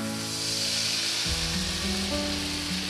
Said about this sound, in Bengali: মশলাটা আমি ভালো করে কষে নেব